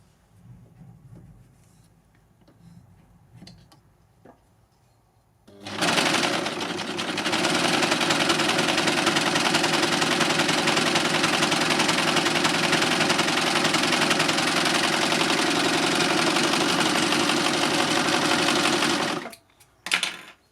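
A Lucie overlocker by Success starts after a few seconds of quiet handling noises and runs as a loud, steady, close mechanical whir for about thirteen seconds before stopping abruptly.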